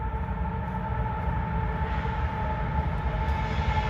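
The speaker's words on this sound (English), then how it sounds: "I heard the train horn blow" A CSX freight train hauling auto racks rumbles past close by. It gives a loud, steady low drone with a constant engine hum and no talking.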